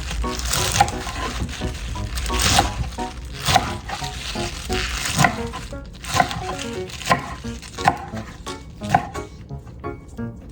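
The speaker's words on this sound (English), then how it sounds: "Wash and then cut off the root of the spinach. And cut it into bite-sized pieces." A knife chops washed spinach with its root cut off into bite-sized pieces on a board for miso soup, giving a steady run of sharp, close cuts at an even rhythm, some louder than others, with no talk.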